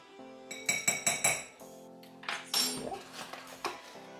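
A metal teaspoon clinks repeatedly against a bowl while cocoa baking powder is added for homemade fruit-and-yogurt ice cream, four ringing taps in quick succession, then a few scraping knocks.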